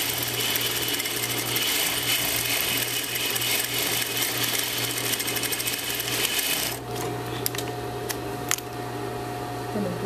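A serger with four threads sews a lengthwise seam on a knit T-shirt, a loud, fast, steady mechanical whir and rapid needle chatter up close, then it stops into lighter handling clicks.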